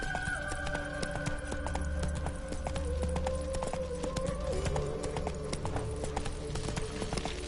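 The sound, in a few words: horse Roach trotting in the video game Witcher 3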